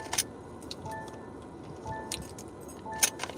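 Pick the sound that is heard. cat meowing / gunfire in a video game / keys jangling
keys jangling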